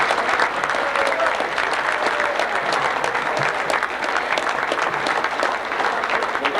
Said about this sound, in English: can we once again just have a little round of applause for the guys who put all this together